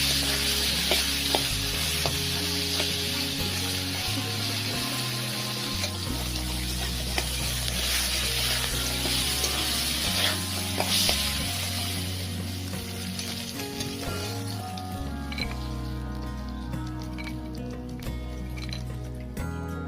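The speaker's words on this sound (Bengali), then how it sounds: "এতে কাঁকড়াগুলোকে দিয়ে অল্প কিছুটা লবণ আর হলুদ গুঁড়ো দিয়ে ভালো করে ভেজে নেবো" Crabs frying in hot oil with salt and turmeric powder, a steady dense sizzle with occasional stirring scrapes and clinks throughout, close and continuous without talk.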